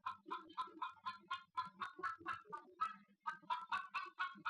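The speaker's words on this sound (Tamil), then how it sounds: "நினைச்ச உடனே அந்த கோழி வருது பாருங்க" A chicken gives a long run of rapid, squawking clucks in steady bursts, faint and fairly distant, with no voices over it.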